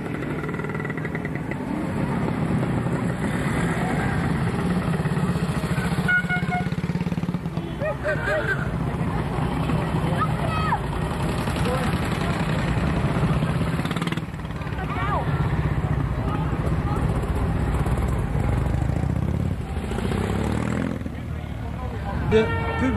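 A group of motorcycles rumbles steadily in a street crowd during King's Day 2002 in the Netherlands, with a low engine drone throughout and a voice talking over it.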